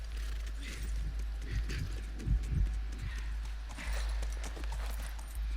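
Horse hooves clip-clop at a steady gait in The Last of Us, with soft snorts and a low engine-like hum beneath and occasional voices talking over them.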